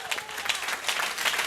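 A church congregation bursts into brief applause and cheering during a French-language sermon, a short, busy patter of many hands at moderate volume.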